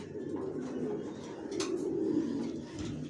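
Young racer pigeons hatched in 2023, a male and female pair, give soft low coos close by, a continuous murmuring rumble with a few faint chirps and rustles mixed in. Nobody speaks.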